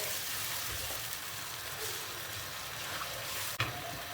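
A glass of cold water poured into tomato paste in a hot pan, giving a steady hissing sizzle and bubbling liquid sound throughout, with a short clatter near the end.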